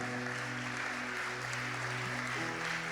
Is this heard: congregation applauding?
yes